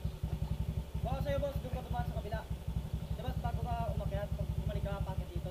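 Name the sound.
motorcycle engine running while riding through deep water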